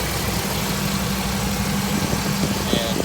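A 1982 Jeep CJ-7 with a brand-new fuel-injected 2.8 six-cylinder engine idling steadily, a continuous low rumble heard close up in the engine compartment with slight vibration and no talk.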